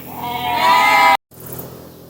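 A pasture goat gives one loud, close, drawn-out bleat lasting about a second, cut off abruptly, followed by quieter background sound.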